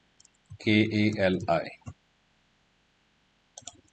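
A computer mouse clicks while a Kali Linux virtual machine is logged into. A short stretch of talk comes first, then a brief cluster of soft, close clicks near the end.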